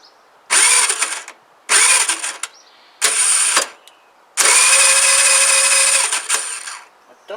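A scooter's starter motor whirs and cranks in four bursts, the last one longer, loud and close, with brief pauses between attempts.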